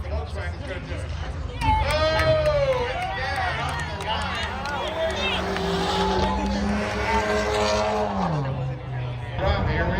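Classic race cars roar at the start of a race in front of the grandstands, loud engine notes rising and sweeping past over steady crowd and announcer noise.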